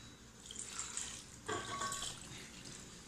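Water poured into a glass while cooking milkfish sardines for the pressure cooker, a steady close trickle that swells in a brief louder splash partway through and then continues without speech.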